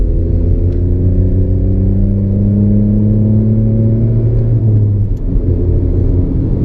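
A car drives on Welsh roads with a loud, close engine drone inside the cabin, its pitch climbing steadily as it accelerates before shifting near the end, with constant rumbling road noise underneath.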